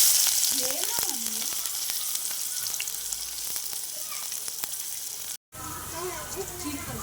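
Chopped onion, one large onion's worth, sizzling steadily in hot oil for a puffed rice snack mix, a continuous bright frying hiss with a few faint pan clinks and a brief dropout near the end.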